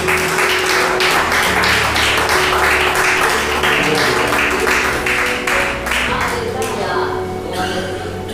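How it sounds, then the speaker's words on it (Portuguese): A church congregation claps together in praise during a communion service, a steady rhythmic round of applause with voices underneath, fading somewhat toward the end. "bater uma salva de palmas para o nosso Senhor"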